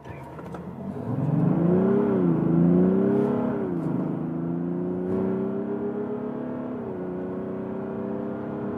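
A 2023 Mazda CX-60 with a 3.3-litre inline-six diesel revs up and pulls hard slightly downhill, its pitch rising through the gears with a steady drone after each shift, heard from inside the cabin.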